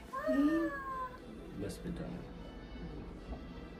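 A cat in Osaka, Japan gives one clear, drawn-out meow close by, followed by quieter background sounds and people talking.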